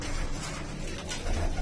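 Domestic pigeons coo in a pigeon loft, a soft, steady low murmur that carries on throughout the short stretch, close and unaccompanied by talk.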